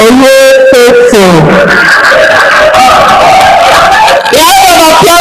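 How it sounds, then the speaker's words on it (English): A crowd at an award ceremony cheers and whoops for a graphics and digital art prize winner, loud and sustained, mixed with a voice over music throughout. "Round of applause for him."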